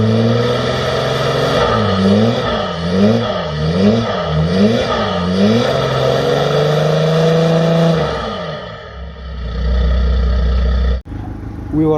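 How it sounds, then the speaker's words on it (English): A cold car engine is revved repeatedly up close, its pitch rising and falling in a steady wavering rhythm several times before dropping back to a loud idle and then cutting sharply. "I'll give it a few revs so you can hear what I'm talking about."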